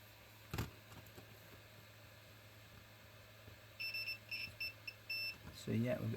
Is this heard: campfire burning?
no